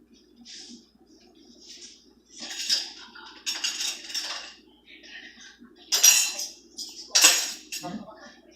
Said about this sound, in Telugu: ఫస్ట్ ఈ డ్రై ఇంగ్రీడియంట్స్ అన్ని ఒకసారి మిక్స్ చేద్దాం